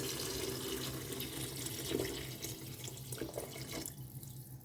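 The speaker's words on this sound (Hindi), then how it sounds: "इसमें डालते हैं पानी" Water pours steadily from a glass into a cooking pot for vegetable pulao, with a continuous splashing rush, then eases off toward the end.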